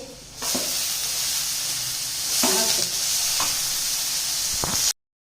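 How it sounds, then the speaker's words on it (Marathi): Chopped tomatoes tip into a pan of onions fried golden for restaurant-style dal khichdi, setting off a loud, steady sizzle with a few stirring scrapes and clinks, and no talking. "यामध्ये आता मी टोमॅटो घालत आहे।"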